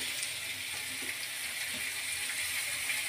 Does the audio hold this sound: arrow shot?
no